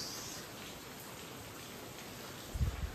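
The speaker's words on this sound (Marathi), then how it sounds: "आमच्या इकडे भरपूर पाऊस" Heavy rain falls as a soft, steady hiss, fairly faint, with a short low rumble near the end.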